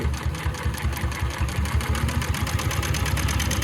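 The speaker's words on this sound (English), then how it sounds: "And 4 layers of very heavy stuff, foot lift, and then I'm going to sew." A Consew P2339RBLH-18-1 double-needle long-arm sewing machine stitches through heavy stacked layers, giving a rapid, even mechanical chatter with a low thumping pulse, close and continuous, with no speech.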